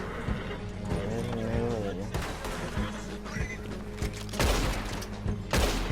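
A horse in the video game Red Dead Redemption 2, with hooves clip-clopping and a whinny mixed among game gunfire, under steady talk from a player.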